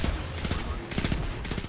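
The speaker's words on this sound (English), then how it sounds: "I'm getting shot from all sides here." Gunfire in the Destiny 2 video game, with bursts of shots from several directions packed into a continuous, loud barrage that fills the short span.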